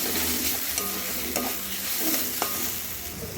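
Steady frying sizzle with continuous stirring of a papaya dish just sweetened with a little sugar in a pan, with a few sharper scrapes of the utensil against the pan, close and fairly loud.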